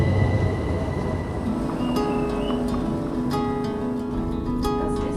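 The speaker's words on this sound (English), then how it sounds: "We're here waiting for a train to take us up over the Alpine Pass." Train at a station in the Swiss Alps, with a steady rumbling drone, brief squeals and clanks, and a faint tonal whine rising partway through, no talk.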